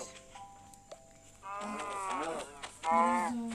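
Cows in Minecraft moo in long, drawn-out calls, two in succession, loud and close, after a quieter stretch with faint tones.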